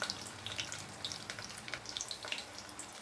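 Cumin, garlic and chopped shallots sautéing in a pan with a soft, steady sizzle and scattered crackling pops, heard close but fairly quiet, with no voices.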